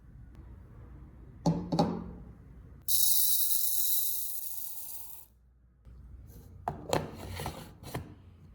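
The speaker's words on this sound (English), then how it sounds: "I grind the flax seeds into a fine powder." Flax seeds ground into a fine powder in a grinder, a steady loud whirring hiss running for a couple of seconds between clattering, rattling handling sounds of the jar and seeds.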